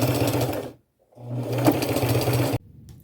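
A sewing machine runs a zigzag stitch to attach lace onto a plain white shirt, with a steady close mechanical whir that stops briefly for a moment and then resumes.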